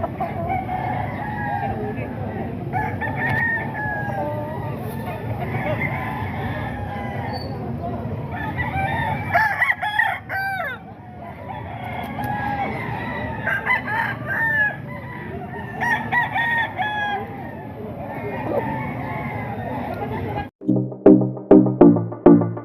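Two young street comb roosters, about eight months old, crow repeatedly nearby, with long cock-a-doodle-doo calls repeating through the scene and clucking between, under someone talking; short sharp crows come in quick succession at the end.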